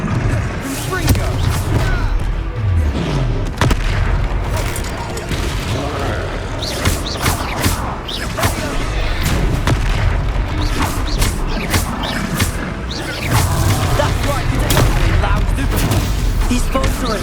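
The Confringo explosion spell from the game Hogwarts Legacy, with booms and crashes repeating through dense battle noise while a voice talks over them.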